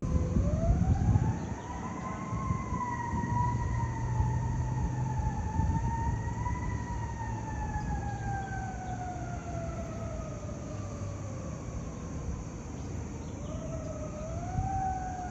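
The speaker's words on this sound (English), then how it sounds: "we woke to the sound of fire sirens in Gatlinburg." A fire truck siren wails in Gatlinburg, Tennessee, in a long, slow rising and falling tone, heard at a moderate distance over low traffic rumble, with no talking.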